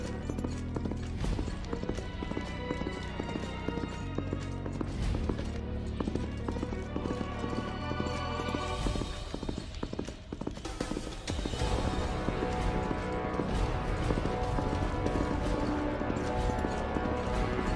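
Horses gallop in a rapid, loud clip-clop of hooves that keeps up throughout, with a momentary lull midway before the pounding rhythm resumes even stronger, part of a dramatized chase scene.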